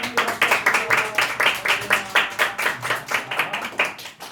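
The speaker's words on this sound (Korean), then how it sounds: "우리 함께 축복의 박수." A church congregation at a Sunday worship service claps together in a steady, rhythmic beat of close, even hand claps that fills the whole stretch.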